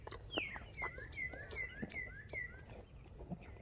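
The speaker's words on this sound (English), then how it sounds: "Bird sound like a person." A small bird gives a quick series of thin, rising and falling whistled chirps, fairly close, over a low background rumble.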